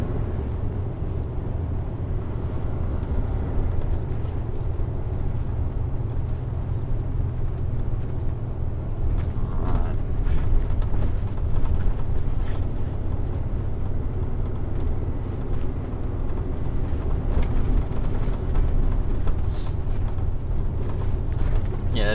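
Steady low engine drone and gearbox rumble from an old Mercedes truck while driving, continuous and close, with faint mechanical rattles and no talk.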